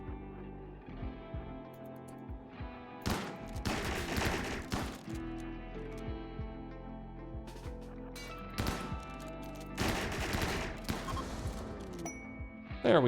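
Shotgun blasts in the colony game RimWorld, two dense loud bursts of repeated shots standing out over steady tonal background music, with no talking.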